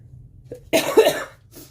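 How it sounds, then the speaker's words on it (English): A single loud, close cough, rough and abrupt, followed by a brief softer breath afterward. "I hate it when people cough really loud on videos"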